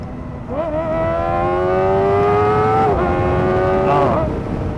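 A 2024 Kawasaki Ninja ZX-4RR engine winds up loud and high, drops in pitch at a manual gear change, then climbs again before another shift, heard close under wind noise.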